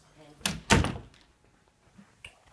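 A house door swings shut with a couple of solid thunks close by, the second louder, then a faint later knock in a quiet room.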